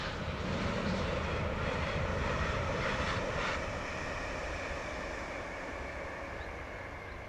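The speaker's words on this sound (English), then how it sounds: "803001 is seen heading north with 1S95 from King's Cross to Edinburgh." A Class 803 electric train, unit 803001, passes the closed Markle level crossing heading north on a King's Cross to Edinburgh service. It makes a loud, broad rushing roar that slowly fades toward the end.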